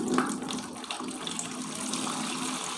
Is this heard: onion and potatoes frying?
no